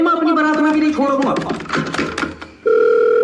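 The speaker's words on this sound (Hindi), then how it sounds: "जल्दी फोन उठा।" Telephone ringing with a loud, steady electronic ring tone, heard near and clear after a burst of jumbled tones and noise.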